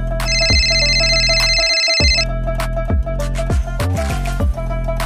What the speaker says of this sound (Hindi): ओ ये किसका फोन आ गया है?